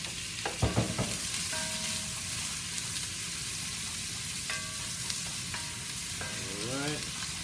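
Bacon sizzles and spatters in a heated pot for braised cabbage, a continuous crackling fry with a few knocks and clatters early on and some tonal squeaks, like utensil scrapes, near the end.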